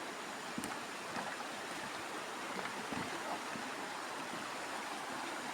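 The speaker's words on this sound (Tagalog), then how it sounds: "So, nandito na kami sa aming ilog." A river flows in an outdoor rural setting, giving a steady, faint rushing wash of water with no talking.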